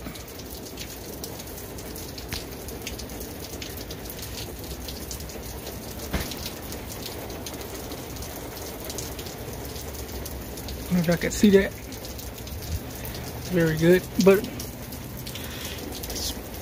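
Steady rain falls outdoors during a thunderstorm, a continuous wash of drops on wet pavement and a car, with brief bursts of speech rising over it late on.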